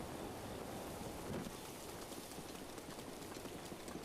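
Hooves clip-clop steadily as a horse runs in The Legend of Zelda: Breath of the Wild, under constant wind rushing across open terrain, quiet overall.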